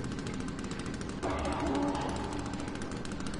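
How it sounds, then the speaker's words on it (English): Chainsaw in the survival video game The Forest revs up into a continuous rattling buzz, fast and steady, with a rise in intensity partway through, close and loud for several seconds. "Who started up the damn chainsaw?"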